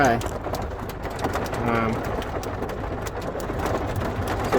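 Steady rain pours down throughout on a farm in Portugal, a dense hiss of drops with faint murmuring voices underneath.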